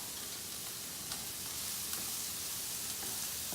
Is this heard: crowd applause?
no